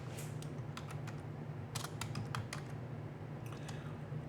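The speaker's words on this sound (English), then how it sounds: "I have to type here." Someone typing on a computer keyboard, bursts of light, uneven key clicks over a steady low electrical hum, fairly quiet and close.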